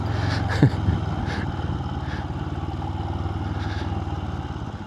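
A Royal Enfield Continental motorcycle with budget suspension rides over a broken, rough mountain road, its engine thrumming steadily with rattling clatter and a sharp knock near the start, heard close with no talk.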